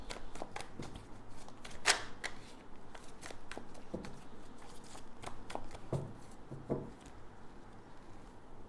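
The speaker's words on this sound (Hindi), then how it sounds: "यहाँ पर मैं डेक्स को शफल करके कार्ड्स निकाल लेती हूँ" A deck of tarot cards is shuffled by hand, close up, with a steady papery riffling and crisp slaps and taps of cards throughout, one louder snap near the start.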